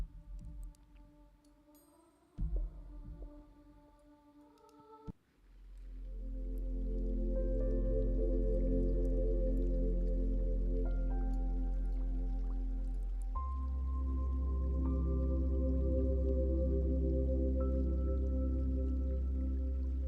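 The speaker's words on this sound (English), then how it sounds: "Bringing in the water element to soothe your being." Recorded dripping water plays as a meditation track, soft repeated drops and squishy liquid plinks over a deep, sustained drone after a quieter, sparser opening.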